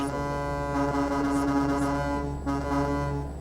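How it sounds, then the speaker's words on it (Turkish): A deep, sustained Kenworth W990 truck horn in American Truck Simulator blares loudly for several seconds, dipping briefly before sounding again over a low engine drone. "Şöyle kornası var."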